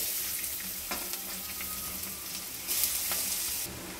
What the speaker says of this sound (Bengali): পেঁয়াজটা দিয়ে দিচ্ছি আগে তেলে।